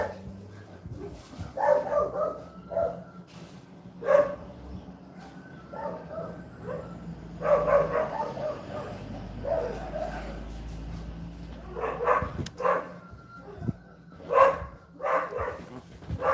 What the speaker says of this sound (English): Have a dog out in the road